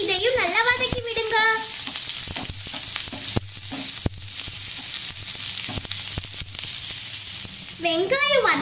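Onions and garlic sautéing in hot oil give a steady sizzle with the scrape of stirring. A voice talks over the frying at the start and again at the end.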